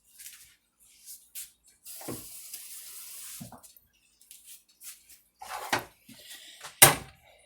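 Intermittent splashing and running water in a kitchen, with short bursts separated by quiet gaps and a few knocks of a pot or lid.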